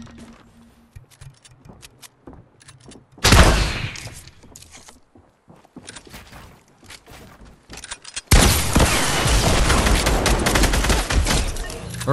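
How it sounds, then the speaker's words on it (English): Dense rapid gunfire in a Fortnite Battle Royale match, two long loud bursts of sustained automatic shooting separated by quieter stretches of scattered shots and movement. "I'm getting shot at."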